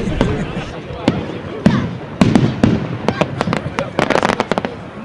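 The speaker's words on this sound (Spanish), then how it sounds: "¿Tú sabes que ahora van a haber fuegos artificiales?" Fireworks at a Chinese New Year celebration in Usera, Madrid, with loud bangs and crackling bursts that grow denser and more rapid, over a murmuring crowd and nearby voices.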